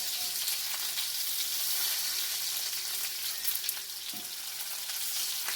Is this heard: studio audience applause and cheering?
no